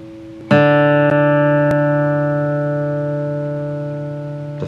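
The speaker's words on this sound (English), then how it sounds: "The fourth string, make it sound like this." A single open fourth string on a steel-string acoustic guitar is plucked once and rings alone, bright and close, sustaining with harmonics that decay slowly over several seconds.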